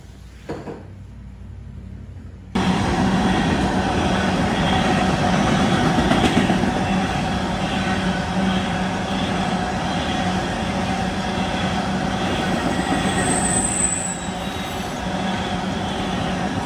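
After a quieter start, a long freight train rumbles past close by beside a large river with a barge, on the Katy Trail near Hermann: steady heavy rolling noise with clanking and a brief high wheel squeal.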